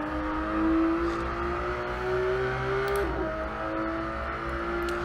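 A Porsche GT3 RS engine at full throttle in the Assetto Corsa racing game gives a steady droning tone that climbs in pitch, with a brief dip at a gear change and no voice over it.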